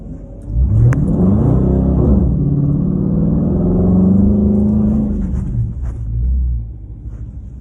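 A car on slicks and skinny front tires launches down a drag strip at a Thundervalley test and tune, its engine a loud, continuous rumble that swells and holds through the run, with no talking.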